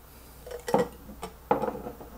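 Plastic top lid of a Vitamer portable blender cup being twisted and lifted open, giving a few short clicks and clatters spaced about three-quarters of a second apart, close up with no one speaking.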